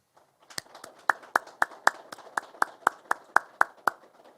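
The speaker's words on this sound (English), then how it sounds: "Let us give our graduating class a round of applause." At a Detroit Police Department graduation ceremony, a dozen crisp claps ring out in a steady, evenly spaced rhythm, loud and close, as if struck in unison, with near silence between them.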